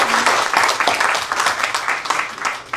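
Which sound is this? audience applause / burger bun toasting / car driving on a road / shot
audience applause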